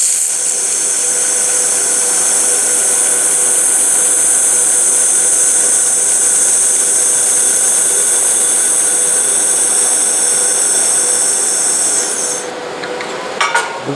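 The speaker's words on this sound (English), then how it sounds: "I went back to rope welding." A laser welder lays a rope-style weld bead, giving a steady, loud, high-pitched hiss and whine that holds unbroken for about twelve seconds before cutting off abruptly, followed by a few small clicks.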